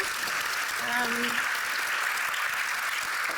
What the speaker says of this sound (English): Big applause to all of you